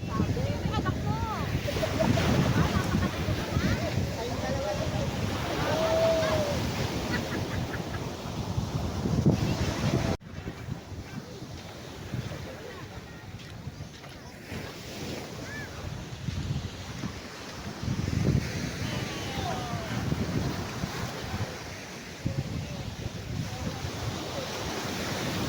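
Sea waves wash steadily onto the beach at Dian, Batangas, a continuous surf roar mixed with wind buffeting the microphone, while voices talk faintly in the background.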